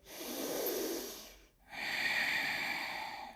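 During yoga boat pose, two audible breaths sound close to the microphone. The first is a soft airy intake, and the second, after a brief pause, is a sharper hissing nasal inhale.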